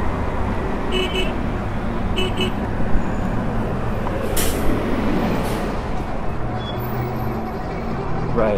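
City bus and street traffic roll past a bike lane, a loud, close engine rumble with a brief hiss and a few horn toots, with a rider talking over the noise.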